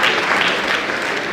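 School assembly audience at a morning meeting breaking into steady applause and cheering, a dense wash of clapping that stays loud and even throughout, with no distinct voices standing out.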